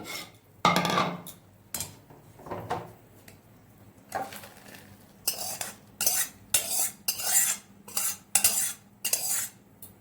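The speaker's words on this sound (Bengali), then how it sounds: "ম্যাগিটা খুব সুন্দর সেদ্ধ হয়ে গেছে। এবার এটা আমি একটা পাত্রের মধ্যে তুলে নেব।" A utensil scoops boiled Maggi noodles from a pot into a bowl, making a close series of scraping knocks and clinks that speed up into rapid bursts, with no talking.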